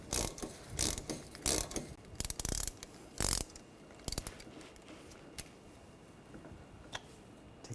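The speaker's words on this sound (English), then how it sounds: "Using a 7mm hex socket, take these caliper guide pins out." A ratchet with a 7mm hex socket loosens the front brake caliper guide pins on a 2013-2019 Ford Escape, giving quiet clusters of clicking strokes with short pauses between them.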